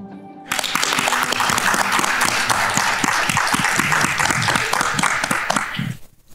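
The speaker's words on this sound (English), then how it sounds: "Can we get another round of applause" An audience claps steadily and loudly for several seconds at a community award event, a dense wash of many hands that fades out at the end.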